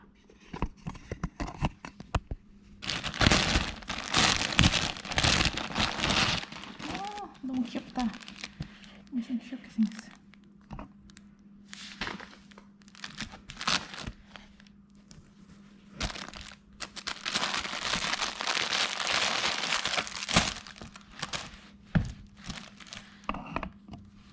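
Packaging from an Amazon order being torn open and handled, bursts of crinkling, ripping and rustling close up, with quiet gaps and someone speaking in between.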